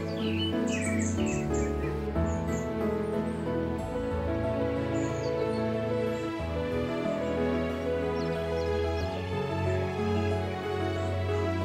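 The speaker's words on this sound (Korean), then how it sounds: "매일 새들의 노랫소리로 아침을 엽니다" Many birds chirping and singing in a lush, unweeded home garden in the morning, overlapping bright calls and trills over a steady outdoor background, no talking.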